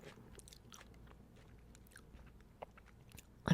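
Close crunchy chewing on a pepperoncini stem, with soft mouth noises and small bites scattered throughout, ending in a louder crunch.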